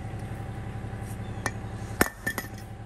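A hammer drives metal bushings into a bush hog mower. A few sharp metallic clinks sound at irregular spacing over a low steady background hum.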